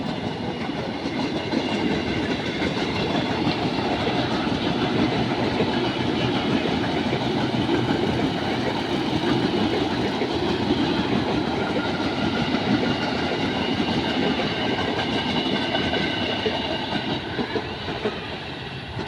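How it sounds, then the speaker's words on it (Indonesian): A KRL commuter train bound for Kampung Bandan via Manggarai rolls steadily past nearby, a loud, continuous roar of wheels and wagons lasting the whole stretch with no talking over it. "KRL tujuan Kampung Bandan via Manggarai."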